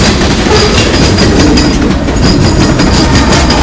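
Heavy Union Pacific manifest freight train with distributed power locomotives rumbling past in the mountains, loud and close, with a dense roar of wheels and rhythmic clickety-clack of rail cars throughout.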